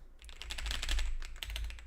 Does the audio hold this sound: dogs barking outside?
no